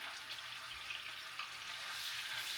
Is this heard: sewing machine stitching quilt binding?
no